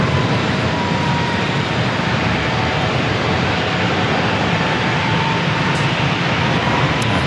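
Airplane engine roar at San Diego airport, a loud, steady, broad rushing drone that holds unchanged throughout with no voices.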